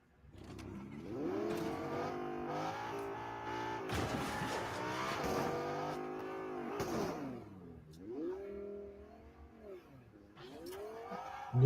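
A car driving in the Fortnite video game, its engine revving up and down in swooping pitch sweeps, loud and close, with gunshot-like bursts and clatter around the middle.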